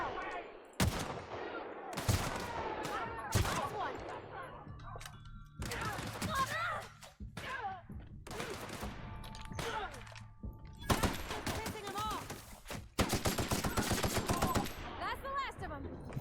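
Assault rifle fire in The Outer Worlds comes in repeated loud bursts of rapid shots separated by short pauses, with brief speech between some volleys.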